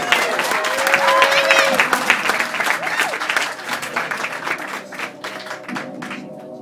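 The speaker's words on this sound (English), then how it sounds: "A round of applause for David." Audience applause and cheering at a live comedy hypnosis show, loud at first and gradually thinning into scattered claps, with a voice coming through over the crowd.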